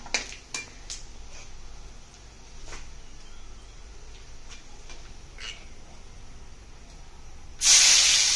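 Cardamom, cinnamon and bay leaves dropped into hot oil in a kadai give a steady low sizzle with a few sharp crackles early on, then a loud rush of hissing surges up at the very end.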